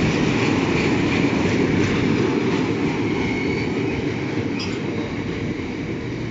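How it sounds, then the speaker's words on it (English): Colas class 70 locomotive 70807 hauling a train of oil tankers past at Barnetby, a loud, steady rumble and rolling roar of wagons close by with faint rhythmic wheel clatter, no talk. "There's all the oil tankers going through Barnetby."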